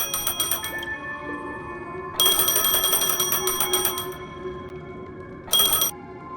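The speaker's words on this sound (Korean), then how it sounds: "전화" A phone rings in the video game Honkai Star Rail, a repeating electronic trill that sounds in three bursts, the longest in the middle, over a low steady background.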